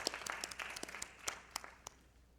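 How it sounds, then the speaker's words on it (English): A small audience at an awards ceremony claps briefly, scattered hand claps fading out over a couple of seconds, faint and fairly distant. "Let's give Rajesh a round of applause"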